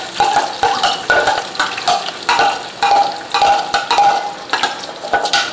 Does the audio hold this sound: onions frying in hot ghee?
yes